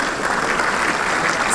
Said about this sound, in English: So don't hold the applause back.